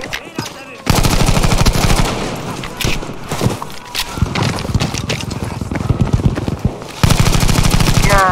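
Heavy automatic gunfire in a shooting video game, loud continuous bursts that dip briefly and resume, with a player talking over the shooting.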